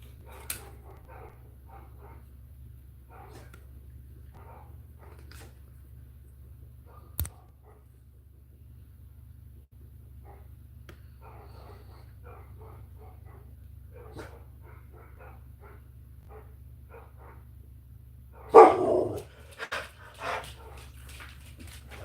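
Neighbor dogs bark in the distance at night, faint scattered yips and woofs over a steady low hum, followed by a louder, closer burst of barking near the end.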